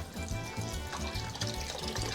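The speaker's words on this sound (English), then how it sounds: "And then pour your chicken broth in." Chicken broth is poured into a pot of lasagna soup, a steady splashing stream of liquid running without a break and fairly loud and close.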